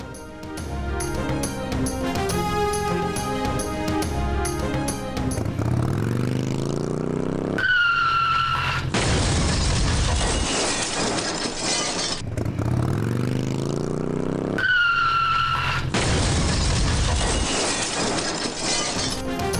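A fleeing motorcycle rider in China crashes into a wall, shown twice: engine noise, skidding and a loud crashing impact with rattling debris, each followed by a long stretch of harsh broadband noise.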